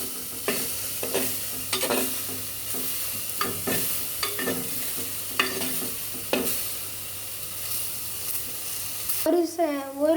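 Mudakathan keerai leaves fry in hot oil with a steady sizzle while a spoon stirs and scrapes the pan in repeated strokes, ending in a brief louder clatter.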